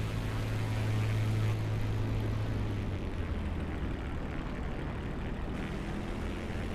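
A Optica light aircraft taxis toward the apron in a flight simulator, with a steady, moderate engine and propeller drone and a low hum that fades after a few seconds.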